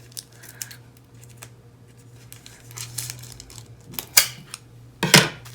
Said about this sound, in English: I'm just gonna grab my scissors because I appear to be having problems getting into it.